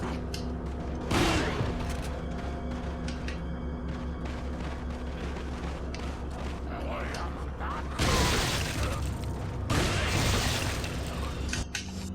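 A Red 9 pistol in the video game Resident Evil 4 lands a critical shot, sharp gunfire bursts and impacts breaking through a constant game soundscape, with two heavier blasts late in the clip.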